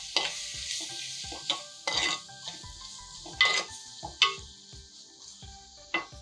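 Tomatoes fry in a pan for a simple weight-loss dinner, a steady hiss of sizzling broken by sharp clinks and scrapes as a spoon stirs every second or so.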